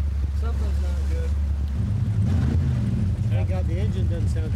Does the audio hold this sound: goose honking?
no